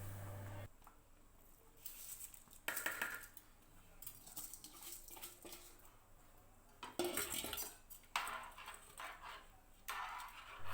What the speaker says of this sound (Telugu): ఇప్పుడు నానబెట్టుకుని వడకట్టుకున్న బియ్యాన్ని ఇందులో యాడ్ చేసుకోవాలి.